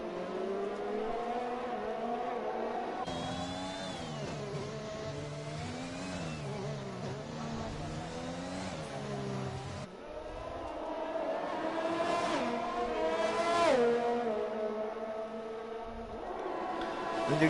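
A race car engine in a racing video game on the Azerbaijan circuit revs continuously, climbing and dropping in pitch through gear changes and braking, loud and steady with no talk over it.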